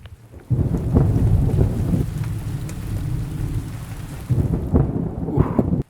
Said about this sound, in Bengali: কেবল বৃষ্টির শব্দ আর হাওয়ার গর্জন পুরো গ্রামটা দাপিয়ে মাতিয়ে বেড়াচ্ছে